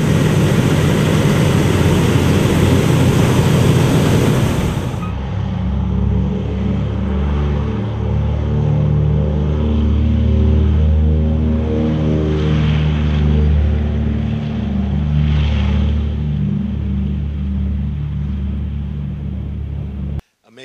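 WWII warbird propeller aircraft at New Castle County Airport: a loud broadband roar for the first few seconds gives way to a steady, droning engine hum with layered tones, close and continuous until an abrupt stop.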